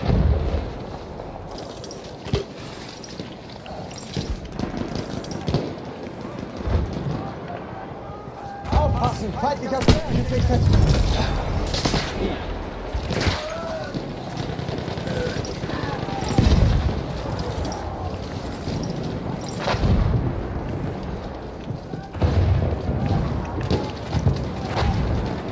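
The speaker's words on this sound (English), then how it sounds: "Oh, they're mortaring." Mortar fire and explosions rumble through a Battlefield 1 battle at Passchendaele, with repeated heavy thuds and booms scattered among constant battlefield noise, gunfire and talking voices.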